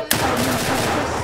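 Sustained gunfire in Escape from Tarkov, a sharp report opening into a dense, continuous burst that rolls on without pause for over a second at close range.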